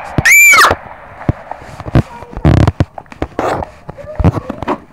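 A voices a shrill, high-pitched squealing scream in imitation of a girl, one sharp piercing burst near the start, followed by scattered clicks and short noisy bursts.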